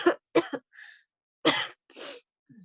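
Several short, harsh coughs in quick bursts, close by, with brief pauses between them and a softer cough at the end.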